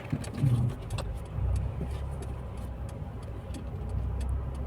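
A Mercedes-Benz GLB 200 rolls slowly into a garage, its low engine rumble steady and close throughout, with faint ticking and clicks above it and no one talking.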